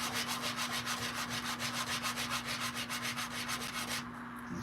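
Steady, quick back-and-forth rasping strokes of sandpaper rubbing a metal ring, close up over a constant hum, stopping near the end.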